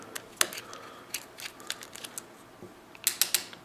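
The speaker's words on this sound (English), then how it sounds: "I'm actually going to pop the body screws out." Small T7 Torx body screws being backed out of a Benchmade Mini Griptilian knife handle with a driver, giving quiet, scattered ratcheting clicks and ticks close by, with a brief cluster of sharper clicks near the end.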